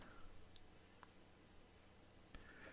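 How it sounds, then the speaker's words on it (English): A computer mouse clicking, a few faint, sharp isolated clicks spread over a few seconds in a quiet room. "Double click, double click, double click, double click, double click."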